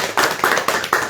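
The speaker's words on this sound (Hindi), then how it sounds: "तालियों से इनका स्वागत करें।" Audience clapping in welcome for a speaker at a party-headquarters gathering in Jammu, heard as short bursts of loud claps rising in waves, no voices.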